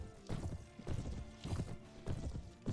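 Horses gallop in the Mount and Blade: Prophecy of Pendor battle game, rhythmic hoofbeats pounding in bursts across about three seconds, loud and close with no voices.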